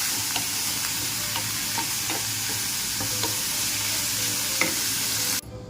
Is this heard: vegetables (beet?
yes